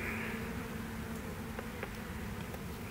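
Honey bees packed into a bucket after vacuum extraction from a colony give a dense, steady buzzing hum that holds at an even level throughout, with no talk over it.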